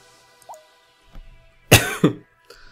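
A few harsh, loud coughs close by, two main bursts in quick succession followed by a small throat-clearing sound, amid otherwise quiet game sounds with a brief tone.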